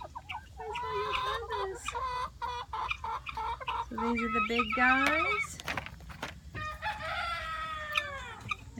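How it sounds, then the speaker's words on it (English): Chickens and turkeys on a farm cluck, crow and call in a busy outdoor flock, with overlapping fowl calls near and far, while a person talks over them. "And then we got the turkeys and the chickens are all in the brush over there."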